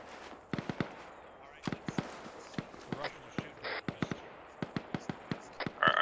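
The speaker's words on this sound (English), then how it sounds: "these guys are shooting out to their west southwest" Gunfire in the military game ARMA 3, a series of sharp cracking shots in scattered bursts across the scene, some sounding far off, with a voice briefly heard over the shooting.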